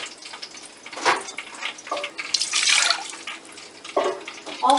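Water poured for churro dough splashes in uneven bursts, bright hissing gushes rising and falling over about five seconds, close and moderately loud.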